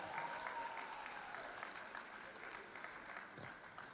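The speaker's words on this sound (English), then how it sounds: "Big round of applause for Karakara mai." Audience applause for a performing group from Rarotonga at the Miss Jewel Cook Islands 2026 pageant, a steady wash of clapping that holds for about four seconds with a faint tonal sweep near the start.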